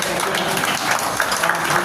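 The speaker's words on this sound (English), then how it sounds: "give a round of applause right here" Scattered applause from a tour group underground in a gold mine, a steady dense patter of hands lasting the whole moment at moderate level.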